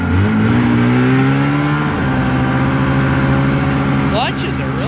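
A 1984 Polaris Indy 400 fan-cooled snowmobile engine runs steadily nearby, its buzzy two-stroke drone shifting pitch slightly as it settles into idle, with a person talking over it.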